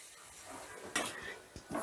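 Milk and cornflour are stirred in a pan over low heat, a spoon scraping and clinking against the metal in soft bursts, with a couple of sharper knocks, quiet and close.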